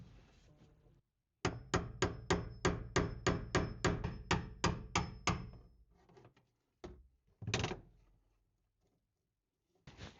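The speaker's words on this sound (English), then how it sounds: "you just need to hammer that to twist it off" About a dozen rapid, evenly spaced hammer blows ring out on metal up close, hammering a snap ring to twist it off during a JDM car repair, followed by a few scattered knocks and a brief scrape.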